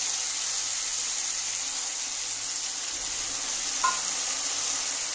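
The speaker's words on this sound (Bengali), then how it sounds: "এবার আমি মশলাটা সম্পূর্ণ দিয়ে দেবো।" Spice paste with Kashmiri chilli powder and green chilli sizzles on vegetables already fried in a pan, for a chapla fish curry with potato and borboti beans. A steady, loud hiss runs throughout with one brief clink midway.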